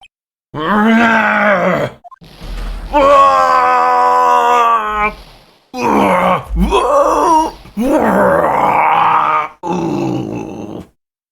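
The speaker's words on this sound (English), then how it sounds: "That scream. I've heard that scream before." A man's strained, drawn-out scream and groans from the courtroom video game Phoenix Wright: Ace Attorney come in several loud, close bursts separated by short silences.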